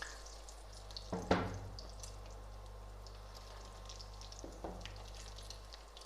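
Pakoras sizzle in hot oil on their second fry, a steady low bubbling with a couple of splashy bursts as pieces drop in, close and fairly quiet.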